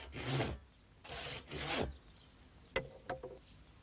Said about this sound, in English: he starts cutting it in half with a saw. It's hard work.